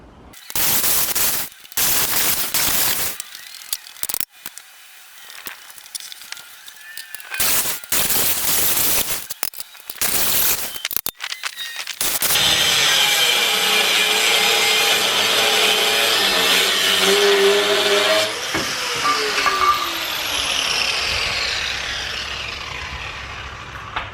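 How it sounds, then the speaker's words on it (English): Cutoff wheel grinding through a bracket on a Jeep CJ7 frame: loud intermittent bursts of abrasive metal cutting at first, then a long sustained whining grind that shifts pitch as the wheel bites and slows. "I've got to try to cut that thing off. So I'm going to try with a cutoff wheel,"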